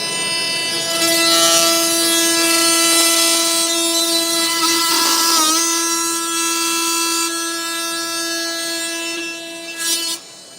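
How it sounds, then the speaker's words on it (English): A Milwaukee Nitrus carbide blade plunge-cuts through a framing nail, drywall, cement board and a drywall screw, giving a loud, sustained tonal motor whine with a grinding surge midway before the cut ends and the tool stops. "We're just going to plunge cut through those materials to show you what that looks like with Nitrus carbide."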